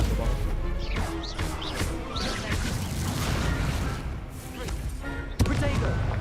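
Stupefy spell cast in combat in the Hogwarts Legacy video game: a sharp crash and thud near the end rings out over a dense, continuous backdrop of game effects and voices.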